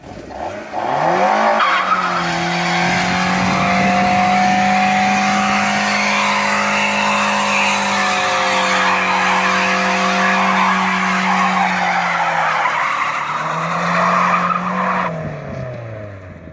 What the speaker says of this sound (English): it did not spin the tires at all, and it just started roasting the clutch